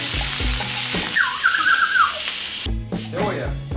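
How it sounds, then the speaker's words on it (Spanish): Ground beef sizzles in a frying pan, browning briefly, with a crackling hiss broken by scraping stirs and clunks of the pan; a voice talks over it in the closing part. "Por acá tenemos la carne molida, la vamos a poner a saltear o a que se marque un ratito en la sartén"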